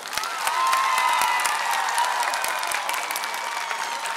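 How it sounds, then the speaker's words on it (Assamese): An audience claps together at a large cultural gathering, producing a dense, steady roar of applause that holds at an even level throughout. "মই সকলোকে একেলগতে হাত তালি বজাবৰ কাৰণে অনুৰোধ কৰিছোঁ"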